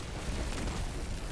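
A rocket explosion in the video game Destiny 2 rolls out as a short, rumbling, broadband blast, steady and moderately loud through its brief span.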